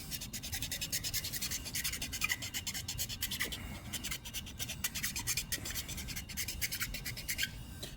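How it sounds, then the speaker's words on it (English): Continuous rough scraping and rasping as a chisel and sandpaper wear down a plastic part, part of fitting an underglow kit to a Chrysler; steady, close and fairly loud, with repeated strokes and no talking. "I'm just going to keep sanding this, grinding this down a little bit with the chisel."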